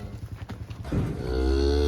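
Cattle moo loudly and close by in farm pens holding cows and calves, a drawn-out low bellow rising after shuffling and knocking sounds, with no voices.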